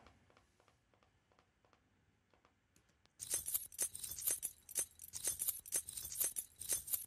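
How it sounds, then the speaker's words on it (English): Foley recording of a bunch of keys: a few faint, sparse jingles at first, then loud, busy metallic jangling shaken in quick repeated bursts. "over here I had these Foley recordings of keys jangling"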